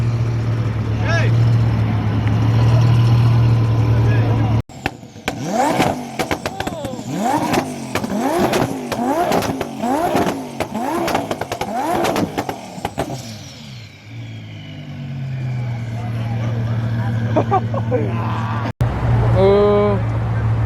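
A twin-turbo Audi R8 revs hard in a rapid series of rising and falling throttle blips, loud and close, then settles to a lower idle drone, with voices and crowd noise around it.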